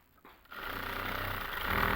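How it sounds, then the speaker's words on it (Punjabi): A sewing machine stitching lining onto a designer lehenga runs as a steady, close mechanical whir that starts after a brief quiet moment and grows slightly louder toward the end. "ਆਪਾਂ ਹੁਣ ਲਾਈਨਿੰਗ ਅਟੈਚ ਕਰ ਦਾਂਗੇ"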